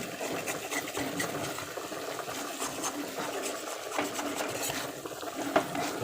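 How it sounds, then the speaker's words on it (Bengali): Potato and eggplant curry with spices stirred in a pan, soft continuous scraping and shuffling of a spoon through the thick mixture with faint clinks, fairly quiet with no talk. "তো এই দেখলে আলু বেগুন এই আবার এটা লেগে যায় মশলাটা ওই জন্য একটু নেড়ে নিচ্ছি ভালো করে"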